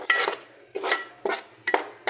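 Wheat flour roasting in a pan on low heat for a jaggery halwa, stirred with rhythmic scraping strokes of a spoon against the pan, about four close, evenly spaced scrapes with short clinks.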